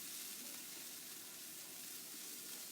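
A Southwestern stir fry sizzles in a pan with a soft, continuous hiss and a faint crackle throughout, fairly quiet and steady, with no speech.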